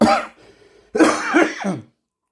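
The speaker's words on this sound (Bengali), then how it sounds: "প্রচণ্ড কাশি বন্ধুরা প্রচণ্ড ঠান্ডা লেগেছে" A person with a heavy cold gives two close, harsh coughs, the second longer and more rasping, then falls silent.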